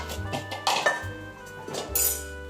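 Curry leaves and chillies being pounded in a mortar for a curry-leaf chutney, making a few irregular dull knocks and clinks that land close by at a slow, gentle pace.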